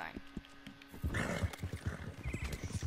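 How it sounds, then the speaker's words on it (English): A horse in a Western open-world video game whinnies and snorts while hooves clop along a trail, the sounds close and fairly loud and mixed with game ambience and some talk. "Oh shoot, the horse dying."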